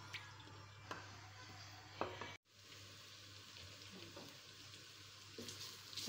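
Garlic fries in a pan for mung dal, a soft, steady sizzle with occasional pops and a stir, faint and close, with no voices.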